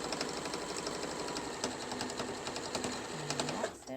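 A sewing machine stitches a homemade fabric mask in a steady, close, rapid run of needle strokes that lasts nearly the whole time, then stops abruptly near the end.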